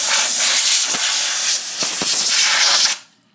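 A can of compressed air duster blasts a loud, steady hiss close up while cleaning dust out of a stereo equalizer. The spray sputters briefly midway and then cuts off sharply near the end.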